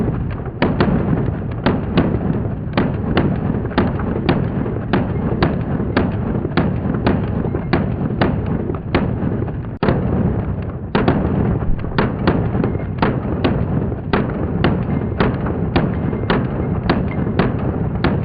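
Rapid series of Sig Sauer P365 pistol shots fired with a compensator, comparing metal and plastic frames; sharp loud reports come in quick regular strings, with one brief pause midway.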